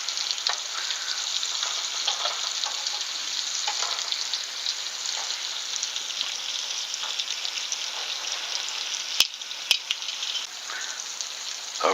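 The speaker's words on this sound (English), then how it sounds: "I want to get them coated and then conduct my fry." Spice-coated apple slices fry in a pan with a steady, close, even sizzle that never lets up, broken only by a couple of sharp clicks near the end.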